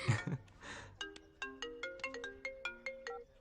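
A mobile phone ringtone chimes as a quick melodic pattern of bright, evenly spaced electronic tones, close and fairly clear after a brief rustle at the start, with no voices.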